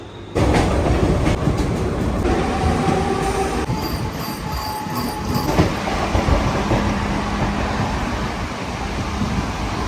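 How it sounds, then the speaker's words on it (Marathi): A Mumbai local train rumbles and clatters steadily along the rails into Malad station with a metallic squeal, loud and close, with no talking. "ट्रेन पण बघा एकदम टायमिंग वरती आलेत"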